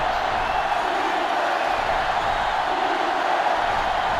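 Steady, even roar of a football stadium crowd at an Alabama versus LSU college football game, a continuous broad wash of noise with no distinct cheers standing out.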